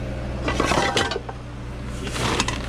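Metal woks and a lid salvaged from a dumpster in Taiwan being handled, clanking and clinking in several bursts, close and fairly loud with no talking.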